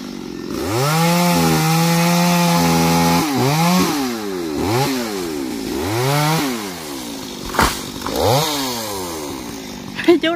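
Chainsaw felling several large trees in an orchard, engine revving loud and steady with repeated rising and falling pitch sweeps as it cuts, a thud near the end.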